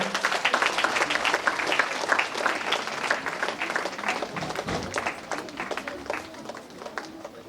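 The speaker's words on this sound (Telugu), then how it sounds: "గట్టిగా చప్పట్లు కొడదాం" An audience at a Catholic saint's jubilee celebration in Mariyapuram, Kadapa, claps loudly and steadily for several seconds, a dense patter of many hands close by that slowly thins, with some voices underneath.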